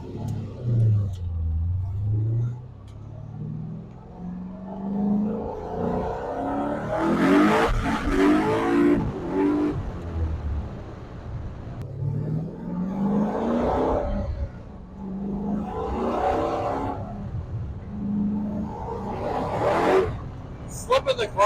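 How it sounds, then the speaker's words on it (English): A 1967 Corvette with an LS3 engine revs and pulls on the road with a slipping clutch, engine note rising and falling in repeated surges, close and loud, with someone talking over it. "Slipping the clutch. That ain't good."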